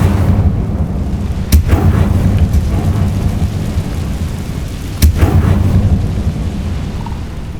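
An Incendio fire spell in Hogwarts Legacy, with two sharp blasts that bloom into a loud rumbling whoosh over a continuous roaring bed of game ambience.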